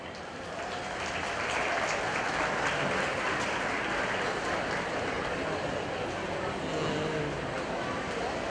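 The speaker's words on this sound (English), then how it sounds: "Let's give our judge a round of applause." Audience applause for the judge at a county fair 4-H and FFA market steer show, steady broad clapping from a crowd that swells after the first second and continues evenly to the end.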